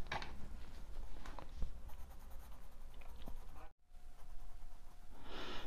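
Marker or pencil coloring a drawing on paper: steady close scratchy rubbing strokes, continuous with a brief pause partway through, no talking.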